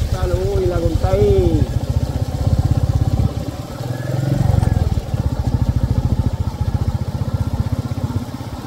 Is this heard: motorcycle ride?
yes